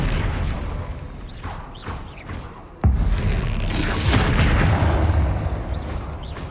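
Spell explosion from a Hogwarts Legacy wizard duel: a sharp, loud boom hits mid-clip, after which blasting and crackling game effects continue densely to the end.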